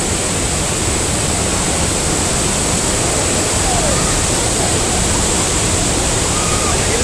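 Hogenakkal waterfall on the Kaveri river, a steady, dense roar of falling water heard up close, loud and unbroken throughout with no pauses or variation.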